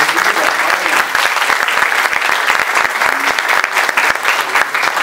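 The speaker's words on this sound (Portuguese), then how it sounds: "É uma salva de palmas para quem está organizando." Sustained audience applause for the organizers of a church talk on the role of the laity, dense and steady throughout, loud and close with no voices over it.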